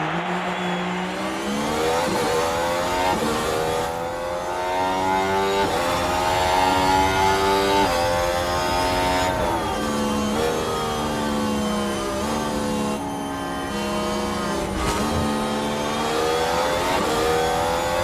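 Several race cars in F1 Manager 2024 accelerate hard from a race restart, their engines whining and climbing through the gears in a loud, continuous layered roar that holds for the whole stretch.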